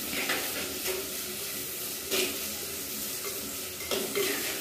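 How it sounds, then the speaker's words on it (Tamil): Shallots, green chillies and curry leaves sizzle in a pan for fish kulambu, a steady frying hiss broken by the scrape and clink of a stirring spoon every second or so, close by. "இது கூடவே ரெண்டு பச்சை மிளகா, கறிவேப்பிலை நல்லா வதக்கிப்போம்."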